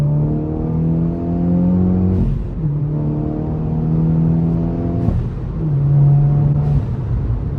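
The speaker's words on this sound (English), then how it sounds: "we can literally just drop to third, and I'll show you how well this thing pulls" A 330HP VW Polo GTI pulls hard after a downshift to third, its engine note climbing steadily through a long rising drone, then dipping sharply at each upshift and building again, loud and close with no talking.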